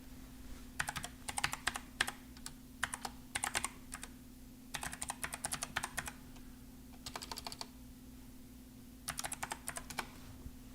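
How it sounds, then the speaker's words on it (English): Bursts of computer keyboard typing, close and moderately quiet, come in several short clusters of rapid keystrokes separated by brief pauses over a steady low electrical hum. "Here, I'll type in."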